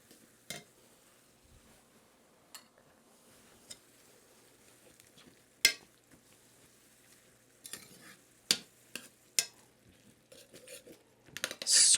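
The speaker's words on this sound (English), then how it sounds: "Scrape up the fond on the bottom" Spoon scrapes and stirs across the bottom of a pan of Jamaican beef patty filling, lifting the browned fond; scattered sharp scraping clicks over a low sizzle, close by, with no talk.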